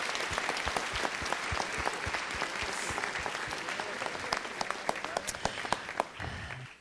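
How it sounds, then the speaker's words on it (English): A room full of people at a city council meeting breaks into sustained applause, dense overlapping claps holding steady for several seconds before tapering off at the end. "let's have a wonderful round of applause for these folk"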